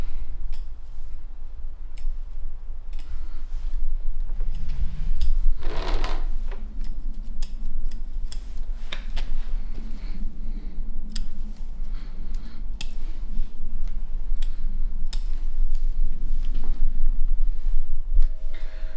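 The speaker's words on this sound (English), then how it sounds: "I've now trimmed the bottom half of the tree up to where my scissors are" Small scissors snip the branches of a Japanese maple bonsai during spring pruning, giving sparse crisp clicks at irregular intervals against a quiet hum, with a brief rustle of handled foliage partway through.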